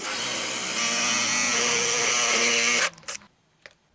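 A power drill bores a hole into a board inside a marked cutting line, a loud high-pitched whine running steadily for nearly three seconds before it abruptly stops, followed by a few faint clicks and knocks.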